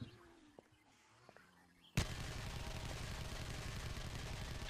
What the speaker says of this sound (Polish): Ty, no nie wiedziałem, że ten samochód może wybuchać.